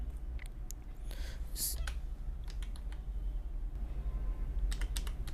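A seat number being typed on a computer keyboard, with scattered quick keystrokes and clicks in short bursts over a low steady hum, close up, with faint speech in the background.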